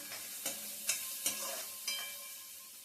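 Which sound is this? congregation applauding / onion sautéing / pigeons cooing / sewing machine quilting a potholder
onion sautéing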